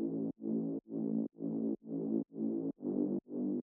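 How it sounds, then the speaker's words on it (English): A Reese bass synth with its low end removed by EQ, playing eight buzzy, detuned, chopped notes in a steady rhythm, loud and alone with short gaps between them. "The first one is a Reese bass,"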